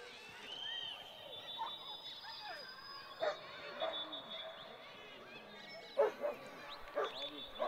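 Dogs at a dog show in a Nuremberg stadium, young long-stock-coat German Shepherd bitches being judged, give a few short, fairly distant yips and barks over steady crowd ambience and background talk.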